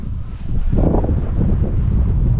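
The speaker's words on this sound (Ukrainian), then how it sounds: "бо вітер страшенний сьогодні" Strong wind buffets the microphone in a steady, loud roar on a winter riverbank, swelling into a heavier gust partway through and staying rough to the end.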